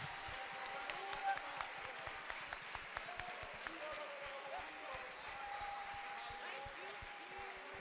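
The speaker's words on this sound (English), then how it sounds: "I dare you just clap real fast" A church congregation at a regional meeting claps rapidly and steadily, sharp hand claps tumbling together in a fast rhythm, with a voice talking over it throughout.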